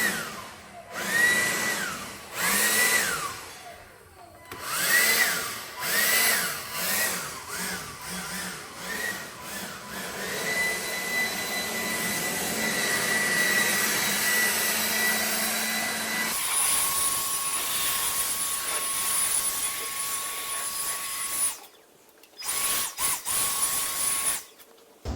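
A handheld blower roars while clearing dust, running in surging bursts that rise and fall, then holding a sustained loud whine before cutting off and restarting briefly near the end.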